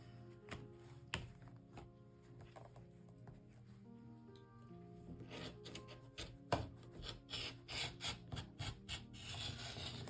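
Fabric edges of a zipper pouch are trimmed with scissors, making quiet close snips and rubbing sounds that grow into a quicker run of cuts over a faint background hum, with no one speaking.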